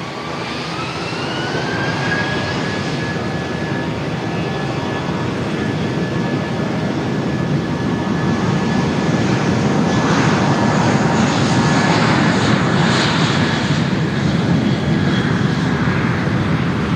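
An airliner's jet engines spool up and roar during takeoff from runway 03, with a rising whine and a broad, loud, steady rumble that builds and holds, heard from fairly close and free of speech.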